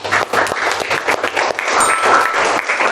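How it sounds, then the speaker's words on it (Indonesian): Audience applause after a classroom group presentation, a steady patter of many hands clapping close by, filling the whole stretch without pause. "kita berikan aplaus dulu boleh?"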